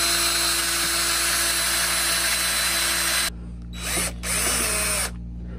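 A power drill bores a hole into a hard wood walking stick, a loud steady whine for about three seconds, then stopping and restarting in two shorter bursts.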